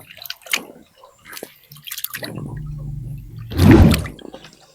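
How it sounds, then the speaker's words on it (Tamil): Water is poured and splashed over fresh turmeric roots as they are rinsed, a close, wet gush that swells toward the end after some quieter dripping and handling. "நல்லா சலசலன்னு இப்படி தண்ணியை கொட்டி அலசணும்."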